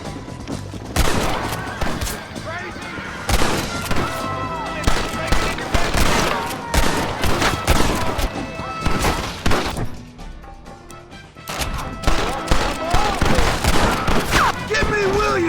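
Dense, rapid gunfire from a Red Dead Redemption shootout crackles loud and near in continuous bursts, with a brief lull before the volleys resume, while voices shout faintly underneath.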